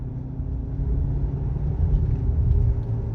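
Engine of a 2017 Ford Explorer SUV while driving, a heavy low rumble from inside the cabin, steady and fairly loud with a slight swell partway through and no speech.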